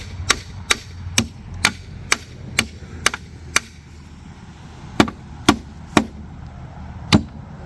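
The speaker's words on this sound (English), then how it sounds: "I'm gonna pound the bolts this way a little bit to give you a little bit of room." Hammer pounding bolts on a boat's gimbal housing: about a dozen sharp, close metallic strikes in a steady rhythm, a brief pause, then a few more spaced blows.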